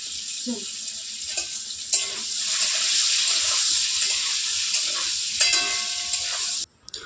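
Pointed gourd frying in a pan gives a steady, close sizzle with faint stirring scrapes that carries on for about six seconds before cutting off abruptly, followed by a brief clatter.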